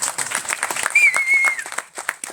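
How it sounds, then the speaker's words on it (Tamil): Audience applause at a Tamil film audio and trailer launch event, a burst of clapping heard up close, with a short whistle-like tone rising over it midway. "அதுக்கே தனியாக நீங்கள் அவருக்கு ஒரு கைத்தட்டல் கொடுக்கலாம்."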